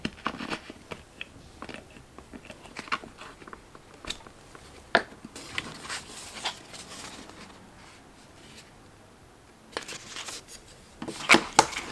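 Holes being punched through a notebook cover with a small piece of wood, heard as scattered close taps, scrapes and crunchy rustles with brief louder bursts toward the end.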